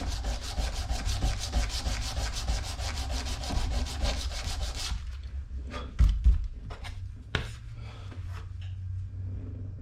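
Hand sanding on a surface to remove fine scratches, heard as a steady fast rhythmic rubbing for about five seconds, then quieter scattered scrapes and a couple of knocks.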